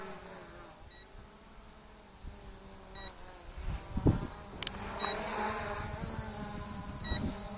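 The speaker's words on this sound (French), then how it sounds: "La radio rebip." Radio controller of a Visuo Zen K1 drone beeping in short, faint tones at regular intervals, over a steady hum of propellers and outdoor background noise.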